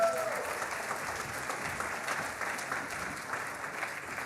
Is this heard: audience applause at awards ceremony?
yes